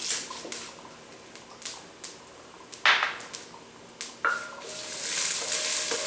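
Cumin seeds, coriander seeds and bay leaves hit a hot pan with a soft sizzle, broken by a few sharp clinks and scrapes of stirring before the frying swells louder near the end.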